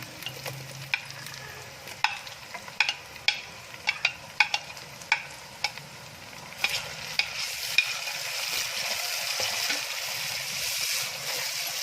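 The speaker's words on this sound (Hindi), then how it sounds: "इनको अच्छी तरह मैश होने तक फ्राई करेंगे हम लहसुन अदरक के पेस्ट और प्याज के साथ" Chopped tomatoes frying with garlic-ginger paste and onion in a pan, a steady sizzle with repeated sharp clicks of stirring, growing denser and louder toward the end, no voices.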